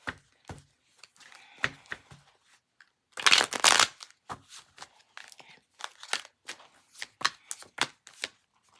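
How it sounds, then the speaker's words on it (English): Sharp riffling bursts of cards being shuffled, one long flurry in the middle among scattered taps and snaps, close up. "One more shuffle."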